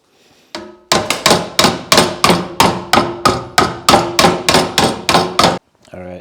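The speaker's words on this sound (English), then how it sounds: "it's kind of a poor man's hammer and dolly, but I'm going to try to bend it around" Steady hammer blows on metal while bending stock around a makeshift hammer and dolly to build a small utility trailer: about a dozen loud, ringing clangs at an even rhythm, close by, with no talking.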